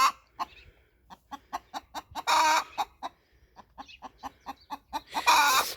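Hen with rooster-like feathers clucking in a rapid series of sharp, close notes, broken by two louder squawking bursts, with no talking.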